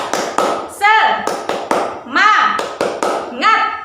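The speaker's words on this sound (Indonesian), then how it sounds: "mari kita tepuk semangat terlebih dahulu" Children in a primary classroom perform a rhythmic clap-and-chant cheer, sharp group claps in a steady pattern alternating with shouted sung syllables, close and loud.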